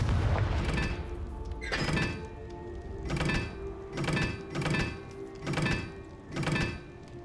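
Repeated Confringo fire spell blasts in the Hogwarts Legacy video game, six or seven booming bursts spaced about a second apart, each with a sharp attack and a short rumbling decay.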